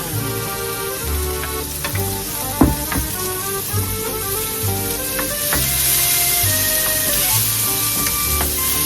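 Garlic dropped into a hot pan for macaroni soup sizzles loudly and steadily, a dense close frying hiss with a few clinks of a utensil and a faint background tone.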